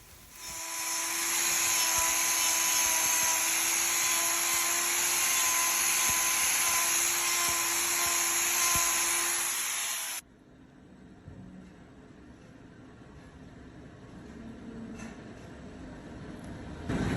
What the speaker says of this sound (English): I'm going to use my grinder here to give us a bigger access point to get all of these rocks out of there.